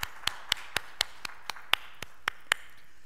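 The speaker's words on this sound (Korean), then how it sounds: "우리를 용서하시고 용서하게 하시는 하나님께 감사의 박수를 돌려드립니다" Even, rhythmic clapping during a church worship service: about a dozen sharp, evenly spaced claps at a steady quick beat, fairly quiet, with no talking.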